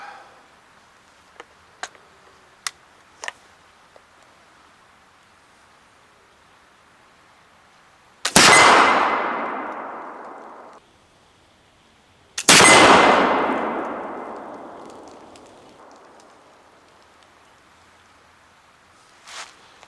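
Two loud black-powder blasts from a swivel breech muzzleloader ring out at an outdoor range, each followed by a long fading rumble, several seconds apart, after a few faint clicks.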